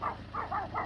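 Several dogs shut in an enclosure on a cold farm give short muffled barks, three or four spaced bursts at moderate distance over a low steady hum.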